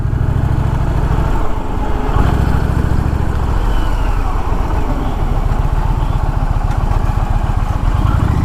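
A 2024 Indian Challenger Dark Horse motorcycle riding on a highway, engine droning steadily, then a pulsing, throbbing exhaust beat as the rider changes throttle, mixed with wind rush at close range.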